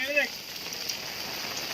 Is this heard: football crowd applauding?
no